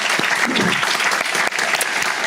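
Dense, loud applause from a large congregation at a church high school Sunday worship service, steady throughout with no talking over it.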